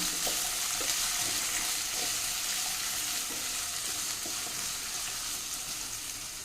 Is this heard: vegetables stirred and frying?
yes